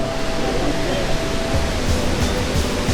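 A small waterfall at a lakeside spot in Nikko, Japan, heard as a steady, broad rushing hiss of falling water, continuous and fairly close, with no talking.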